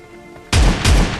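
A shotgun fires in a video game. Two loud, booming blasts come in quick succession, close and punchy, after a quiet moment, and no one speaks over them.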